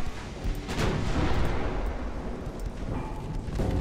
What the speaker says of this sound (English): I'm once again going to turn to try to get the rear turret firing too